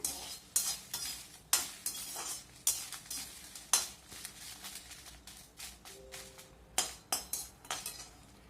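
Mustard seeds, urad dal and dried red chillies are dry roasted in an empty pan, making rapid repeated scraping and rattling stirs with a faint sizzle and no talking.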